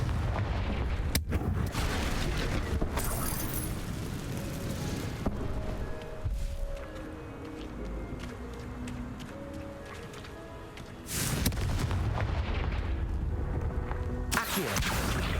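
Fire spell explosions from the Hogwarts Legacy video game, with repeated heavy booms and blasts over a dense rumbling battle soundscape and layered game effects.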